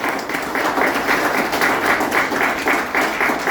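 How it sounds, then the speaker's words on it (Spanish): Congregation in a church applauding, a loud crowd clapping in a slightly rhythmic, pulsing wash that continues steadily throughout. "Un fuerte aplauso para el Señor."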